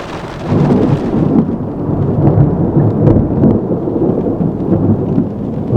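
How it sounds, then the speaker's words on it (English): A deep, continuous rumble of thunder rolls on over steady rain during a lightning storm, loud and enveloping, without distinct breaks. "I just heard some thunder not too far from here."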